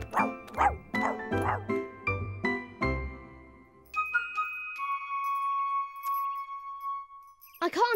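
A cartoon dog barks in short bouts at the start, loud and close, over a busy animated soundtrack, followed by a ringing, sustained musical tone.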